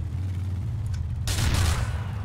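Explosion and gunfire in the game GTA: The Lost and Damned: a steady low rumble, then a sudden loud blast at about the midpoint that fills the rest of the moment with crackling noise.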